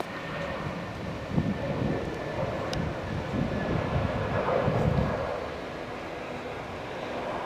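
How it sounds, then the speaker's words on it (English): A plane coming in to land at an international airport, heard from an adjacent woodland: a steady broadband engine roar that swells slightly in the middle and eases off, continuous and moderately distant. "We've got an aeroplane coming in there."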